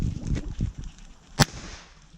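A flare gun fired in PUBG: a single sharp, loud report stands out alone, with faint game noise and low rumble before it.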